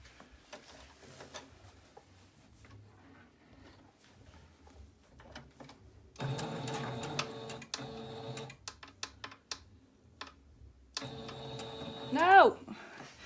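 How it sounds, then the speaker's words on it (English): A sewing machine stitches cotton fabric in two bursts of rapid mechanical whirring, with quiet gaps and small clicks between them. It sounds close, and a brief squeak comes at the end. "So just sew the cotton part,"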